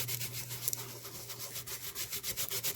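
Loose glitter rubbed in over a stencil, soft repeated scrubbing strokes close up and quiet, with a faint steady hum underneath.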